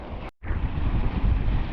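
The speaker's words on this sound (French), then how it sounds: "Le vent est monté un peu" Wind blasts over the microphone during windsurfing, a rough, gusting roar that cuts out for a moment near the start, then returns strong and steady, mixed with water noise from the board.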